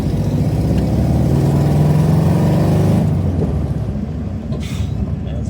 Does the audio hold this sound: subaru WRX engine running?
yes